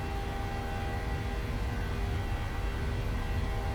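Engines of a PMDG 737 spooling up for the takeoff roll in the MSFS flight simulator, a steady loud broadband roar with low rumble and faint tonal whine, continuous throughout with no talk.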